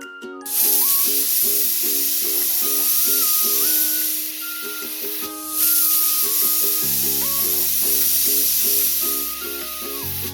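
A pressure cooker holding tama (bamboo shoot) and andra bhudi (tripe) over a high flame hisses loudly with steady steam, under a melodic music track that continues throughout.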